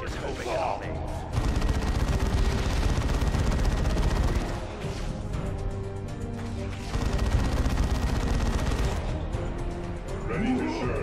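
Heavy automatic assault cannon fire from the Warhammer 40000 Dawn of War 2 Retribution video game, in two long, dense, loud rapid-fire bursts separated by a brief lull and rumbling battle noise.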